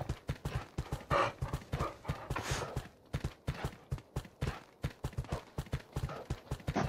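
Horse hooves clip-clop in a steady, even rhythm in the video game Ark, each step distinct and fairly close, continuing throughout with no talk over it.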